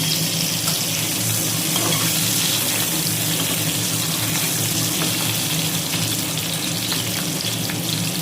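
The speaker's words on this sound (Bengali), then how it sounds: "তেল গরম হয়ে গেছে, এবারে আমি এঁচোড়ের আলুগুলো ছেড়ে দিলাম।" Jackfruit-curry potatoes frying in hot oil in a home kitchen, a steady, loud, close crackling sizzle that runs continuously without a break and with no talk.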